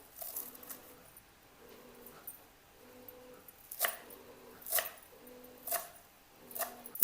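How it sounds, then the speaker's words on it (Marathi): Fresh coriander is chopped with a knife on a board, faint close knife taps that grow into a few sharper, evenly spaced strikes toward the end. "कोथिंबीर कापून घेते मी."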